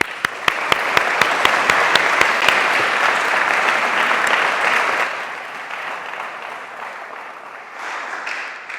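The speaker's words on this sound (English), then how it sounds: "A round of applause, please." Audience applause at an election debate at St Joseph's College in Croydon North, clapping loud and steady for about five seconds after a Conservative candidate is introduced, then fading to a quieter patter.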